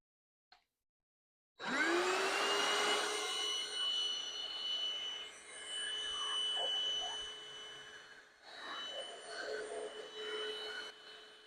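A 6-in-1 cordless vacuum cleaner starts with a click and a rising whine, then runs loudly and steadily with a high tonal hum, its pitch shifting slightly as it moves, with no talking.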